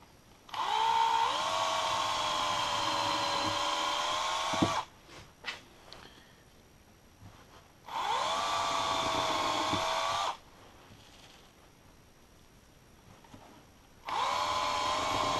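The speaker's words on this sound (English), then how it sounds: "let's drill some holes" A power drill bores holes in wood for a Christmas sleigh in three separate runs, each a loud, steady, close whine lasting several seconds, with quiet handling noises in the gaps.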